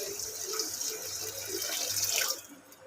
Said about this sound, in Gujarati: હવે એમાં આપણે જરૂર મુજબ પાણી નાખીશું.